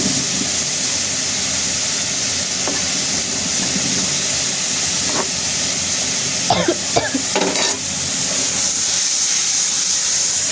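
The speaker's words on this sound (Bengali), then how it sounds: "এই তো মশলাটা কষানো হয়ে গেছে" Spice paste cooking down in a pan before dried fish is added, a constant loud hiss of frying with faint stirring, then a brief cluster of scraping and clattering stirs near the end.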